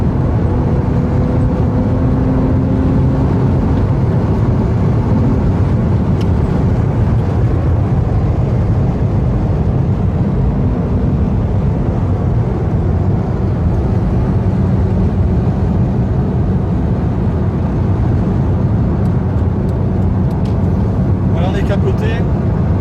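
A 2004 BMW Z4 2.2i roadster cruising top down on the motorway at about 130 km/h, giving a loud, constant roar of wind, engine and road noise that stays steady throughout, with no talk over it.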